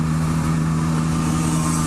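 Yamaha Tracer 9 GT 2022 motorcycle riding slowly through town, its engine a steady close low hum and drone with no talk.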